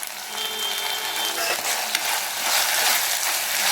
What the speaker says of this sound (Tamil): பச்சை வாசனை போகணும் அதனால் நல்லா வதக்கிப்போம்